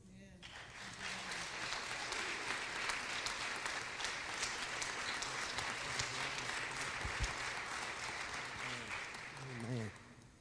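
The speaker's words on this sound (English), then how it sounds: "another round of applause" Sustained applause from a crowd, steady clapping filling the whole stretch with a brief swell near the end.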